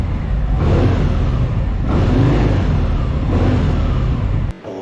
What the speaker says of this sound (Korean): 이왕 시동 걸었으니까 스네칭 한번 해볼게요